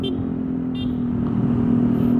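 A motorcycle fitted with a custom full-system header exhaust, originally from a Ninja 250, rumbles and revs up near the microphone, a brief rising growl with a faint voice in the background.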